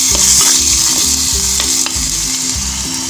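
Chopped tomato hits hot masala in a pan and sizzles loudly and continuously, with a bright frying hiss and a steady low rhythmic scraping of stirring underneath.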